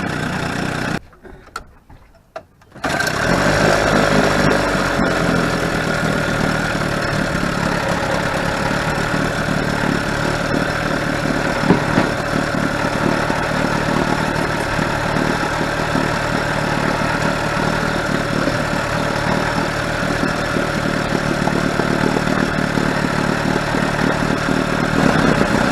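A 1962 Johnson 18 hp outboard motor idles steadily with a continuous, even drone that runs nearly the whole time after a brief quieter gap at the start, close up and loud.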